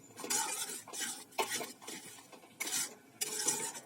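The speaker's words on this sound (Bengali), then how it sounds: "এগুলোকে দিয়ে আমি এটা ভালো করে নেড়ে নেব" A spoon stirs a sweet lentil filling with cardamom and fennel in a pan, scraping and clinking against the metal in several quick strokes, close and fairly quiet.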